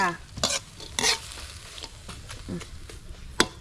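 Chopped meat with blood and herbs is stir-fried in a pan, with a spatula scraping and tossing in irregular strokes over a steady soft sizzle, close up with no talking.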